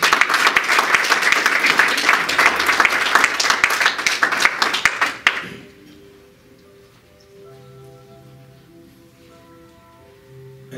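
A church congregation bursts into loud, dense applause that lasts about five seconds, then cuts off abruptly. Faint sustained keyboard tones follow in a quiet room.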